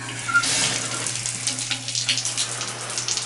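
Shower water runs from a showerhead with weak pressure in a house bathroom, a steady hiss and splash with irregular spatters, fairly close and with no voices.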